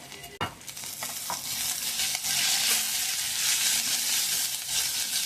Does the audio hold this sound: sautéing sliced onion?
yes